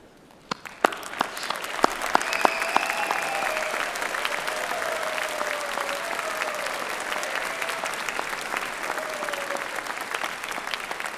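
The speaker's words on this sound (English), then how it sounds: "join me in a round of applause to say thank you for all that they've done to support you" A graduation ceremony crowd applauds steadily for several seconds, the clapping rising quickly and holding at an even, dense level throughout.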